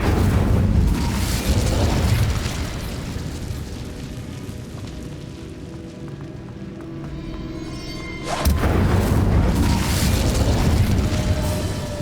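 A fiery burst from the Incendio spell in Hogwarts Legacy, a loud roaring whoosh that fades into a rumbling tail before a second heavy blast swells up again, dense and close.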